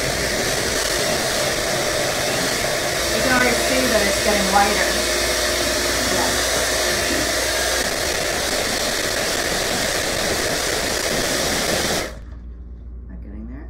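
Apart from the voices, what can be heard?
electric mixer mixing cookie icing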